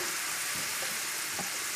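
Mushrooms frying over a high flame in a pan for duxelles, a steady close sizzle with a few soft stirring scrapes and no talking.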